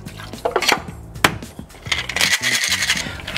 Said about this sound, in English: Cap that off into a shaker tin full of ice and give it a quick shake.